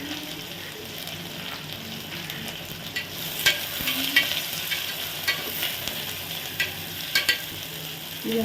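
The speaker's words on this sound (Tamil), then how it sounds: "இது நல்லா கோல்டன் ப்ரௌனாக வர்ற வரைக்கும் நல்லா வதக்கிக்கலாம்." Onions sautéing in a pan for a baby corn vegetable biryani, a steady close sizzle with intermittent scraping and stirring strokes throughout, no talking.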